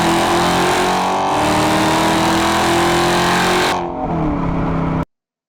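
A replaced exhaust acceleration sound for a car in GTA5 roars loud and continuous as the engine revs up, dipping briefly before cutting off abruptly into silence.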